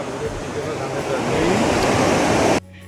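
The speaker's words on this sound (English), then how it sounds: "This is the majestic Gochinmalki Falls." The Gochinmalki waterfall on the Markandeya River roars in a loud, steady rush of falling water that swells slightly and then cuts off abruptly near the end.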